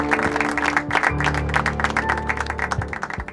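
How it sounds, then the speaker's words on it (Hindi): A film audience claps to welcome a new police recruit, the applause dense and steady across the whole moment over a sustained musical drone, with no voices standing out. "तालियों से स्वागत कीजिए"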